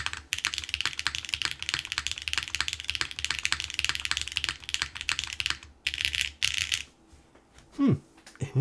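Rapid, continuous typing on a WLMOUSE Huan63 mechanical keyboard, close and crisp, with spacebar presses mixed in, then a pause and a few isolated keystrokes and a handling knock near the end.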